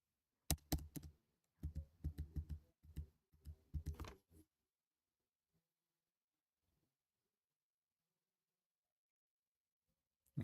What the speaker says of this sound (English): I want to see how my keyboard sounds when I'm typing